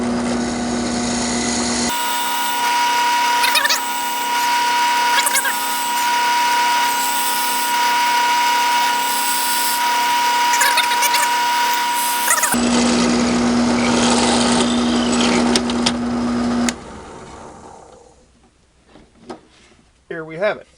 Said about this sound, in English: I've got it in my vise, and now we'll just drill it out.